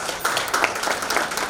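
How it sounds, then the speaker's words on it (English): An audience applauds at the Global Sustainability Summit in New Delhi, with brief, dense clapping that is moderately loud and heard without any talk. "Can we have a great round of applause,"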